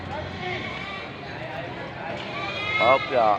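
Goats, Boer goats in a livestock pen, bleat in a short wavering cry near the end, over a steady background murmur of the farm with someone talking throughout.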